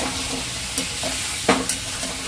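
Chicken goes into a pot of frying onion, producing a continuous sizzle with a sharp burst as it lands and a few clinks of a utensil, close and moderately loud.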